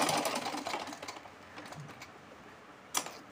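A sewing machine stitches doll dress fabric in a rapid, close whir for about a second, then slows and fades into soft mechanical ticks, ending with one sharp click.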